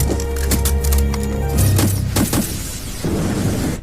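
An explosion erupts in a film scene as sprayed powder ignites, a loud, dense rumbling boom that swells, breaks into crackling bursts and rolls on without speech.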